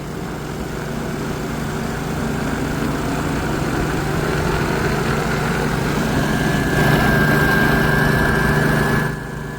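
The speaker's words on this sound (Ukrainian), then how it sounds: "а дрон автоматично йде на посадку" A XAG P100 Pro 50-litre agricultural spraying drone lands automatically in a sunflower field, its steady loud rotor and motor whine droning close by without pause, then cutting off sharply near the end.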